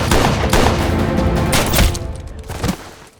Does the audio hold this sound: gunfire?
yes